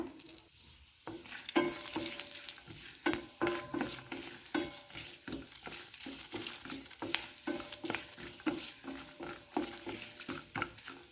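A tempering of asafoetida, peanuts, curry leaves, dry chilli and a pinch of turmeric sizzles in hot oil, with a steady crackle broken by rhythmic scraping stirs of a spoon against the pan.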